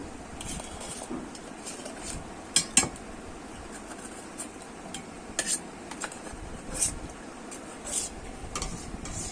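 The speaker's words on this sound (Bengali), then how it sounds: "আমি ভালো করে মিশিয়ে দিচ্ছি এই যে সাবুটাকে" Sago being stirred into a pot of milk boiled down for fruit custard, with a steady scraping and stirring and a few sharper clinks of spoon against metal, close by and fairly quiet.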